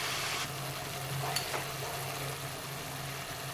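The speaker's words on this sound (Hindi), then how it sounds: "टमाटर को भी भून लेते हैं।" Tomatoes frying in spiced masala for a besan sabji, giving a continuous soft sizzle and gentle stirring in the pan, with a faint low hum underneath and no talking.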